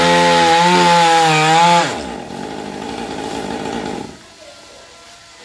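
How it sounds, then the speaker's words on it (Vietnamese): A chainsaw runs loud and close, its engine tone sliding down as the chain bites into a leaning coconut palm trunk near a house wall, then settling into a lower, rougher cutting drone before easing off. "Để cái máy cưa vào phần thân cây dừa."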